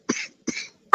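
Two short, close coughs in quick succession, a held-in cough breaking out, followed by a brief burst of another sound at the very end.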